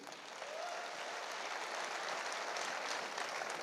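Audience applause at a motivational business event, a steady wash of clapping from a crowd heard somewhat faintly and evenly for the whole stretch, with no talk over it.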